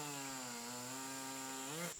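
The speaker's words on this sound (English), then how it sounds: "her dad went to go grab the chainsaw and begin working on the fallen tree" A chainsaw cuts into a fallen tree in the forest, holding a steady, high, whining buzz that climbs briefly in pitch before cutting off abruptly, heard alone.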